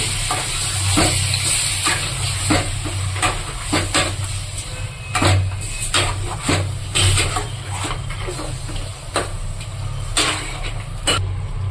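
Chicken pieces fry in oil in a pan in a bachelor-room kitchen, a loud, steady sizzle under repeated scraping stirs and clatters, close up, with no talk.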